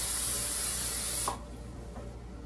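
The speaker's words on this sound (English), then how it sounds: "we're going to take our cooking spray and coat down this pan" A steady hiss of cooking spray coating a pan for about a second, then quiet with a faint clack at the end.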